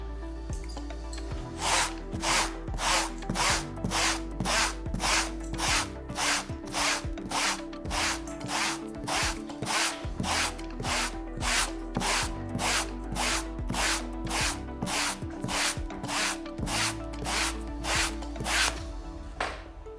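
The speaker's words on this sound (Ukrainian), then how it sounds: "Беремо тактичну сітку, беремо спеціальний абразивний матеріал." A special abrasive material is rubbed hard against tactical mesh in quick, regular strokes, about one rasping scrape every half second, loud, close and continuous.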